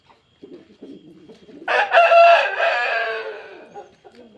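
A gaaj-breed fighter rooster crows once, loud and close, a long drawn-out call rising after a moment of faint background clucking and rustle.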